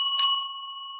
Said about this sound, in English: and I can hear my bell.